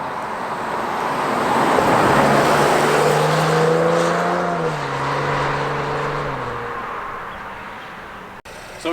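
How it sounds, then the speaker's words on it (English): A 2020 Chevrolet Camaro V6 convertible with a 10-speed automatic cruises along, its engine drone rising and falling through gear changes beneath steady road and wind noise. "driving around this 2020 Camaro, the V6 with the 10-speed automatic transmission and the convertible"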